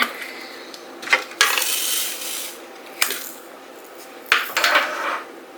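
Small decorative diamonds rattle and clatter as they are stirred and shaken in a container, a close, bright jingling that comes in several bursts separated by quieter shuffling.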